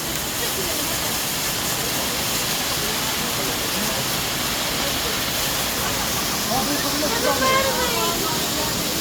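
Düden Waterfall roaring inside a cave, a steady dense wash of falling water filling the space throughout, with a child's and adult's voices briefly heard over it near the end.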